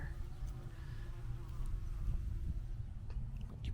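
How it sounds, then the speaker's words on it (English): Bees buzzing softly around nearby garden plants, a low droning hum with a few passing insects over quiet outdoor background. "Bunch of bees."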